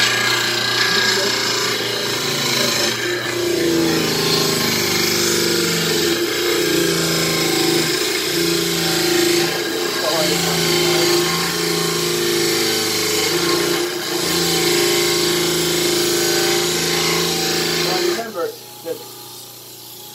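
A poured dental model is shaped on a lab grinder, a steady loud whirring grind with slight dips in pressure that runs almost unbroken for about eighteen seconds, then cuts off abruptly, leaving a quiet tail with a few small knocks.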